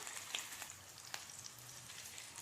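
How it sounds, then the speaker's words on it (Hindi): Chicken seekh kababs fry gently in a pan over medium-low flame, a soft, quiet sizzle with scattered light pops and crackles, close by and with no talking. "इन्हें अच्छे से फ्राई होने देते हैं।"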